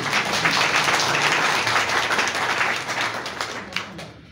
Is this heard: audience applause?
yes